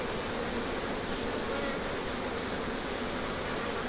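A dense, continuous drone of many honey bees buzzing up close in a hive during queen rearing, steady and unbroken.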